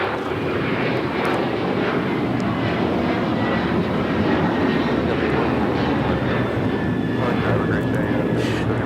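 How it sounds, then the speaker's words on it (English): A United Airlines Boeing 737-900ER takes off at Los Angeles airport, a loud, constant broadband engine roar filling the whole stretch, with a voice talking beneath it. "This is United Airlines 1571 taking off to Houston Intercontinental on the 737-900ER"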